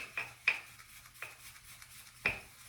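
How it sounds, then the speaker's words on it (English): Several bright clinks as a shaving brush whipping lather hits the sides of a small bowl, irregular taps ringing briefly in a quiet room. "So I'm making the lather in the bowl"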